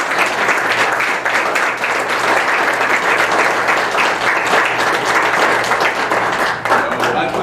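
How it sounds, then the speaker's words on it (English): Audience at an Austintown Township trustees' public meeting breaks into sustained, dense applause, loud and steady throughout with a faint low hum beneath. "Can we give them a round of applause?"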